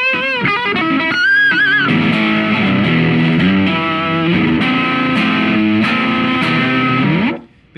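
Electric guitar played through a small Peavey PV practice amp set to a lead distortion tone, sustained distorted notes and chords ringing loudly for several seconds before cutting off.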